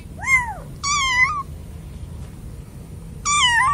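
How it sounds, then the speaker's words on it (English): A cat meows three times, close and clear, with drawn-out rising and falling cries separated by short pauses in an otherwise quiet setting. "C for cat."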